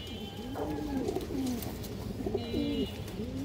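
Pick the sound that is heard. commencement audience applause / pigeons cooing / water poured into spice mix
pigeons cooing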